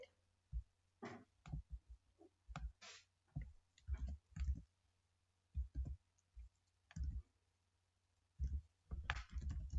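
Rapid clicks from a computer keyboard as code is typed for a doubly linked list pop method, coming in short uneven bursts with pauses, close and fairly quiet, with no talking.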